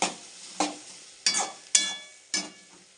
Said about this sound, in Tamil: நம்ம பூண்டு தக்காளி பெரிய வெங்காயம் போட்டு கிண்டிட்டு இருக்க பார்த்தீங்களா?